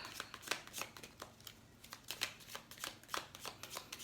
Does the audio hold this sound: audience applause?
no